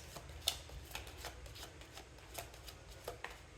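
Tarot cards are shuffled close by in a soft, continuous riffling patter with a few sharper snaps. The sound is quiet, and no one speaks.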